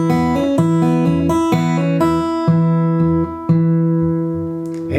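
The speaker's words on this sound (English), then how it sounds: "So you'll hit the 6th string and then pluck the 2nd string." Blues guitar picking pattern alternating a low 6th-string hit with a plucked 2nd string, a steady rhythmic run of clean, close notes that rings out and fades at the end, with no talk.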